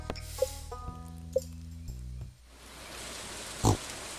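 A pig in the Stardew Valley farming game gives a short oink near the end, following a stretch of plinking musical game tones and quiet background ambience, with no talking.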